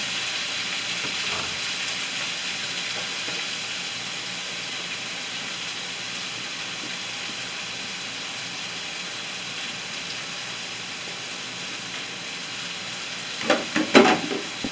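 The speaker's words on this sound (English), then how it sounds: "I'm combining my vegetables to my pan." Vegetables sizzle steadily in a hot frying pan on a stove at medium heat, an even hiss throughout, with a few clattering utensil knocks near the end.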